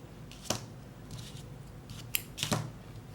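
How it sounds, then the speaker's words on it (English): Scissors snip yarn at a crochet project, three or four crisp close cuts spaced over a few seconds against quiet room tone. "I'm going to cut my yarn here. So just cut a long tail."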